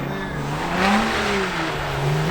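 A car drifting on a winter race track, its engine revving close by with pitch rising and sliding as the rear steps out, tyres hissing beneath the continuous roar.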